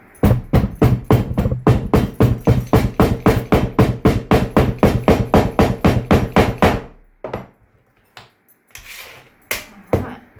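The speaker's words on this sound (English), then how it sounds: "Alright, hammer." Rapid steady hammer blows pack sand into a casting mold around a pattern, about thirty sharp close strikes in even rhythm, then a pause and a few scattered knocks.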